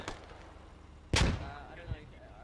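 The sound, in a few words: grenade explosions in the video game Squad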